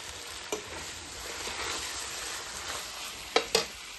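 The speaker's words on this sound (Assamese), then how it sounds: "মাংসটো ভাজা হৈ গৈছে" Meat fries in a pan for khichdi, a steady close sizzle with spatula scrapes and a few sharp stirring clacks near the end, no voices.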